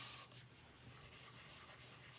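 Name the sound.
rubbing paper embellishment onto card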